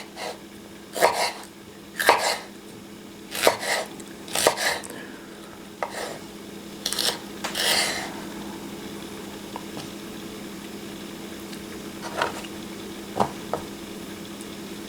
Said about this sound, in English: even if the purpose is just to cut vegetables